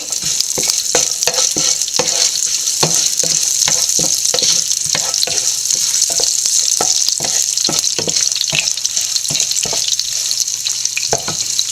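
Dried red chillies and shallots fry in hot oil for papaya thoran, a loud, steady sizzle broken by sharp crackles and stirring scrapes throughout.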